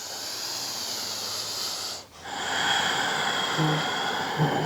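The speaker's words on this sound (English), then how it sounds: "Just breathing nice and deep in and out through the nose." Slow, deep breathing in and out through the nose during a gentle beginner yoga hip-opening session, a steady airy hiss with a brief pause between breaths, close and fairly loud, with no talking.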